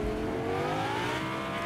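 A car driven in the video game Fortnite, its engine droning steadily and revving up with a rising whir, loud and close, with no one talking.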